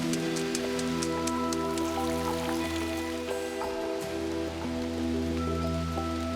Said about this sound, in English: In the West China rain zone, there is never a lack of rain.